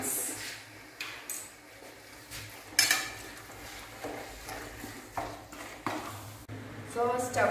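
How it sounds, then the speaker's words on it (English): Spoon scraping and clinking in a pan while mashed potatoes are mixed into a cooked microgreens stuffing, with intermittent knocks and scrapes spread across the stretch and a voice talking over parts of it. "I'll give it a mix"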